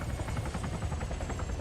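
A video game helicopter's rotor thumps steadily in rapid rhythm, a constant mid-distance drone with no talking.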